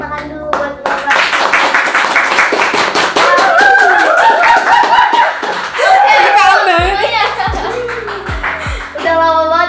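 Small-group clapping for a speaker on an Indonesian student podcast, brisk hand claps mixed with laughter and tonal effects, with voices talking over them.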